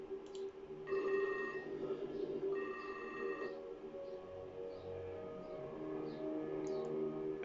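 Electronic telephone ring in the APOAL game slideshow, two bursts of a warbling ringtone over a steady musical drone, with faint chirps scattered between.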